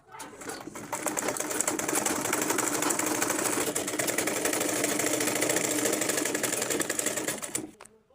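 A sewing machine stitches a straw mat turban cap, running in one continuous fast whirring, rattling burst of about seven seconds after a short start, then winding down to a stop.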